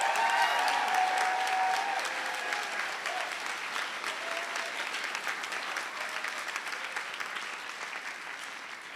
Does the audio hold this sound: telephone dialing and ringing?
no